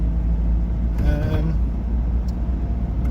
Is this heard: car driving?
yes